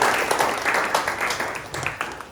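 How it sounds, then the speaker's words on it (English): An audience claps for a long-serving volunteer at a talk event, giving a brief burst of dense, even applause that fills the room, with a faint voice underneath. "can I have a round of applause for Simon"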